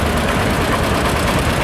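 An old tractor idles in the arena during the morning parade at Laughton Cuckoo Spring Fayre, giving a steady, close, dense rumble that holds without a break through the short stretch.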